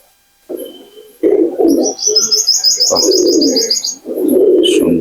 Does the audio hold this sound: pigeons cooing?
yes